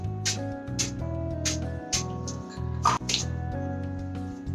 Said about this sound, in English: I'm fixing my makeup with the spray from Wet n Wild.